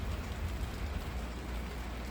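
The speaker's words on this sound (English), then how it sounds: "It's raining out here" Steady rain falls outside a house looking out toward Wildcat Peak, a dense, even hiss with low rumble and no distinct drops, continuous and close throughout without any talking.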